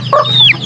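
A single short, close cluck comes from an oriental fowl rooster at an Aseel and Shamo breeder's yard in Iloilo. It ends in a sharp rising squawk-like note.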